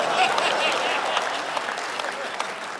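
An audience at a stand-up comedy gala applauds steadily, a dense wash of clapping that holds throughout, with voices faintly mixed into the crowd.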